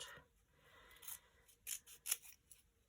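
Scissors snip through a Crystal Art custom diamond painting canvas of a Scottie dog, several quiet, separate cuts spaced a fraction of a second apart, close up with no talking.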